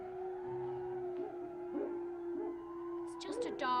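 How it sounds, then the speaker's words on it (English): A dog howls in a drama scene, drawn-out wavering howls at a moderate distance, ending with higher yipping cries, faint overall against a quiet background. "It's just a dog."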